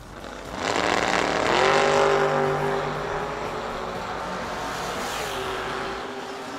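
A 1970 Chevy Nova and a 1969 Oldsmobile launch side by side in a drag race at World Wide Technology Raceway, engines roaring loudly as they pull away, then fading into a sustained distant drone.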